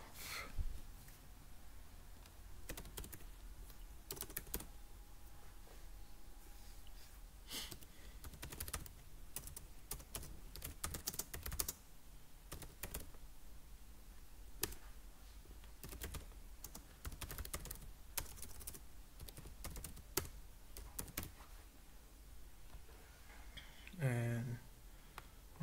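Fast typing on a computer keyboard while entering a web search query, with dense, steady key clicks running throughout at moderate level and a brief louder bump near the end.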